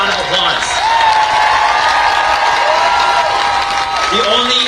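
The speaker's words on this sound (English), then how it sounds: "Please give them a round of applause." A large crowd at a March for Our Lives rally against gun violence in Washington applauds and cheers in a dense, steady wash of clapping for the whole stretch, with voices audible through it.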